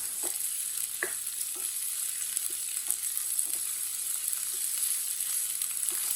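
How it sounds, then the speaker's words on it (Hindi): Okra (bhindi) frying in a pan over high heat, giving an even, moderate sizzle with occasional soft stirring taps and no talking. "भिंडी को 2-3 मिनट के लिए पका लेते हैं।"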